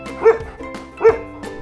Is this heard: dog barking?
yes